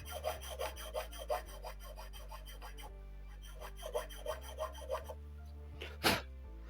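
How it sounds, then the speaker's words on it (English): A hand file rasps against the wooden frame of a 1774 HMS Enterprize ship model, a series of soft, rhythmic back-and-forth strokes close to the microphone, with a low hum beneath and one sharper scrape near the end. "Now we take the file like this and just slightly sand it down."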